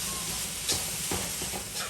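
Katahar being stirred into masala in a frying pan for a Guyanese katahar and shrimp dish: steady sizzling hiss with a couple of brief scraping stirs, close and with no talk.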